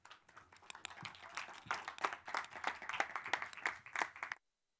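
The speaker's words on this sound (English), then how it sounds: "Ladies and gentlemen, let's give them a big round of applause." A small conference audience claps for panelists at a sustainable digital technology session, a moderately loud, irregular burst of overlapping hand claps that builds and then cuts off abruptly.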